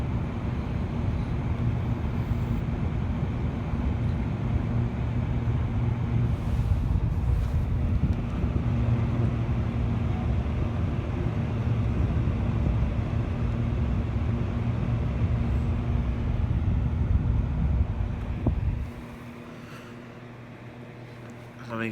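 A small Lasko Cooltime clock fan whirs steadily with a low, constant hum and airy rush, close to the microphone, then shuts off near the end and spins down, leaving quieter background.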